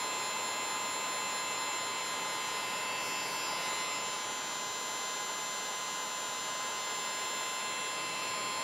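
A heat gun shrinking heat-shrink tubing over soldered wires, giving a steady, even blowing whir with a constant high tone, close and fairly quiet throughout, with no talk.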